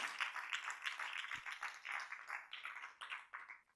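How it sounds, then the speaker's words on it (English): An audience welcomes the director of the documentary Made in England with applause: a dense, moderately loud clatter of many hands that swells and fades in waves before tapering off near the end. "please do your magic and welcome with a big applause the director of Made in England, David Hinton."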